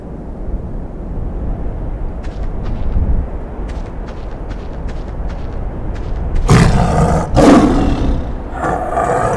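Sandcat creature in a sci-fi desert game, a loud guttural roar bursting out after a stretch of low wind-like ambience with faint clicks, then a second roar close behind.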